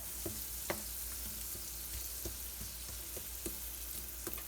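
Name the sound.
fresh carrots sautéing in melted butter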